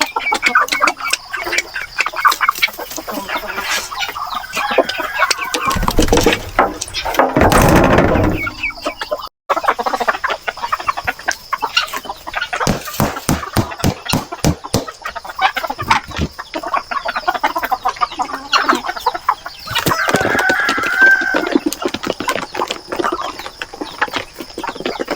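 Turkeys and other poultry at feeding time, close and loud, with dense overlapping clucks and calls and scattered pecking and scuffling throughout.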